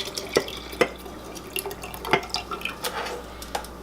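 Liquid is poured into a fermentation chamber, giving scattered drips and small splashes with light clinks of a container, close by and fairly quiet, with no talking.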